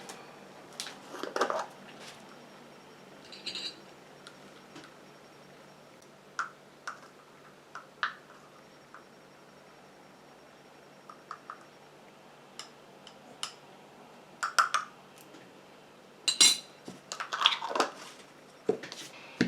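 A chamomile eye contour cream is stirred in a small container, giving quiet, scattered clinks and light scrapes that grow busier toward the end.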